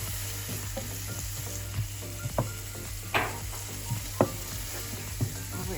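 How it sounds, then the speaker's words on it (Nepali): Spice masala fries in a pan for a mustard fish curry, a constant sizzle with a low hum beneath and repeated clicks and scrapes from stirring. "अब यसलाई चलाइकन एकछिन मसला पाकुन्जेलसम्म भुट्नुपर्छ।"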